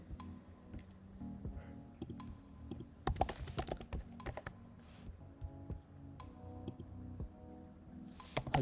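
Quick bursts of typing on a computer keyboard: soft scattered key clicks, then a dense flurry of rapid taps around the middle, followed by more sporadic keystrokes, close and fairly quiet with no speech.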